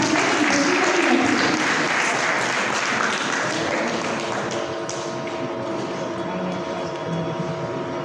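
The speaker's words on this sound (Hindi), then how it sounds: "जोरदार तालियों के साथ" Enthusiastic applause from an audience at an award ceremony fills the space, dense clapping that gradually thins slightly while staying steady throughout.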